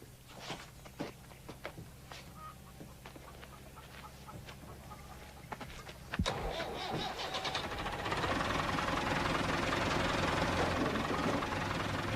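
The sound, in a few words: bus engine starting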